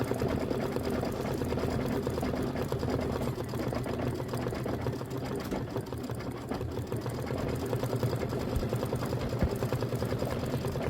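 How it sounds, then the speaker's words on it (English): Computerized embroidery machine stitching a quilted seasonal wreath design in a hoop, a steady, fast, close mechanical whirring and needle chatter running unbroken throughout. "This is what 17 minutes of stitching looks like."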